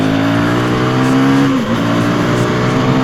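A 2024 KTM Duke 390 naked motorcycle revs hard as the throttle is pulled, its engine note loud and close, rising and holding a strong buzzing pitch that dips briefly before climbing again.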